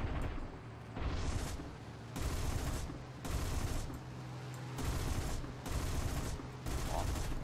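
Bursts of aircraft cannon fire in the War Thunder air combat game, several sustained rapid volleys of loud, dense firing separated by short pauses, close and dominant with no talk over it.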